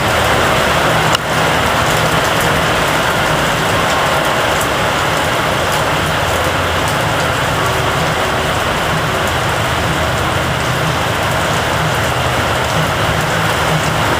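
Steady heavy rain pouring outdoors in Arizona, a dense, loud, unbroken wash of drops on surfaces with no talking.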